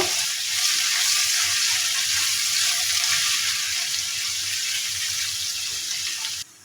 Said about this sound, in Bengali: এই পেঁয়াজটাকে আমি হালকা সফট হওয়া পর্যন্ত ভেজে নিব